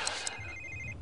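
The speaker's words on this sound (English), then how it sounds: "Answer your phone." An in-game phone rings in The Sims 3, giving a short electronic trill with chirpy tonal pulses. It is moderately loud over a soft background and lasts about a second, with no talking.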